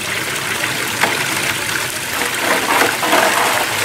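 Water pouring out of a Gold Cube gold separator onto the tailings outdoors, a steady loud gushing flow with no pauses and no voices.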